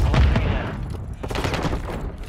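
Rapid bursts of gunfire in the video game Call of Duty, loud and close, with heavy booming shots early, then rattling volleys continuing to the end.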